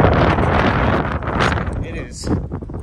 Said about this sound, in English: the wind when hiking especially, it's like consistent and strong